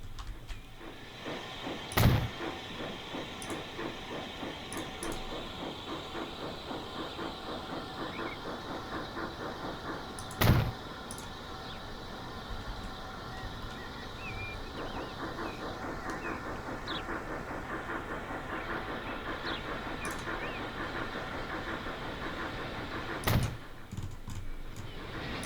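A train with brake wagons rolls steadily along in Transport Fever 2, a quiet continuous rumble broken by three sharp clanks at irregular intervals.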